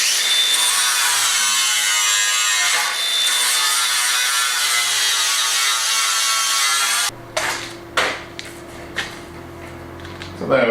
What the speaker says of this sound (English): Right, so I'm just going to grind this off now,